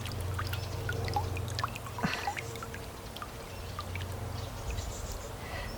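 Water trickles and drips from a lifted net back into a natural swimming pool, a soft continuous dribble with scattered small drops, fairly faint and heard without talk.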